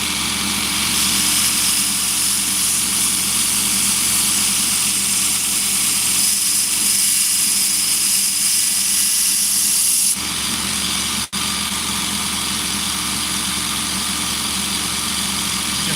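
Knife blade being finished against a spinning Scotch-Brite wheel: a loud, steady machine whine and hiss that runs unbroken, shifting slightly in tone partway through as the blade is worked.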